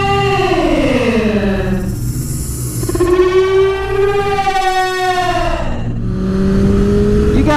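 A car passes a motorcycle on a street with a double yellow line. Loud engine tones rise and fall in pitch as the vehicles move, over steady wind and road roar.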